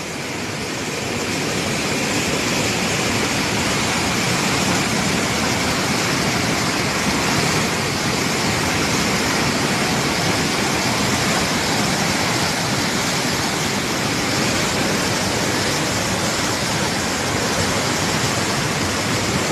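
A loud, steady roar of Ravi river floodwater overtopping the walls of the Madhopur headworks fills the whole stretch, broad and unbroken, like a heavy torrent pouring close by with no voices.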